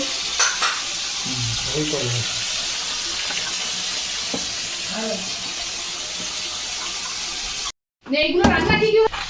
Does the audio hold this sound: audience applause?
no